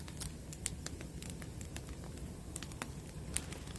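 A wood campfire burning outdoors on a cold winter day gives a soft, steady crackle with scattered faint pops and snaps, heard close but quietly throughout.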